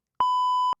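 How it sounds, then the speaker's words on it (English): A single steady censor bleep, a pure electronic tone, sounds alone for about half a second, loud and clean in silence, standing in for a bleeped-out curse word. "I think there's a beep here"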